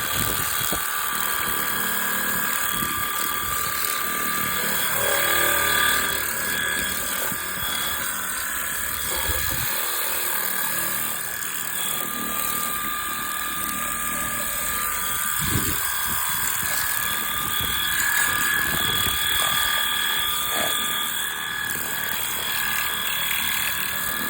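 A Stihl battery-powered pressure washer sprays water, giving a steady high-pitched motor whine with a hissing jet that runs continuously throughout at a fairly constant level.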